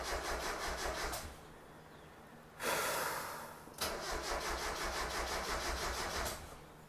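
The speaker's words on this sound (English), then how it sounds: "Now I'm going to crank it for just a few seconds." A Mazda Miata NA engine cranks in two bursts of steady, rhythmic starter churning, separated by a brief pause and a louder whooshing rush, with the engine never catching; fairly close and alone.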